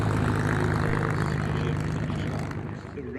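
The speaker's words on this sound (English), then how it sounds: "Stand clear, Mustangs on frequency, taxiing back" Mustang fighter planes taxi back after a display at the Duxford Flying Legends air show, their propeller engines giving a loud, steady, rumbling drone that eases slightly toward the end.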